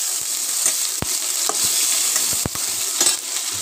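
Garlic frying in hot oil in a pan, a constant bright sizzle with occasional soft knocks of stirring in the pan.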